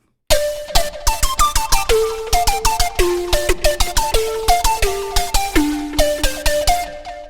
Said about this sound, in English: And a toot flute.